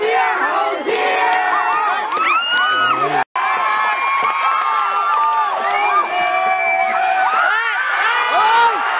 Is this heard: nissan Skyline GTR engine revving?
no